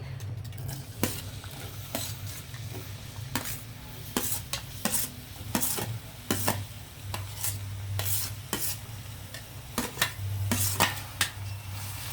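Onions frying in a pan for gongura prawn curry, with a steady sizzle and repeated scraping and clinking of a spoon stirring against the pot, close and clear throughout.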